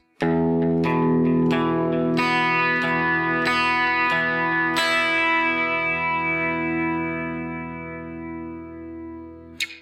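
Guitar plays bar 11 of a Gothic picking exercise, a sequence of clearly picked notes with chorus and mild distortion, close and steady, the last chord left to ring and decay slowly over several seconds.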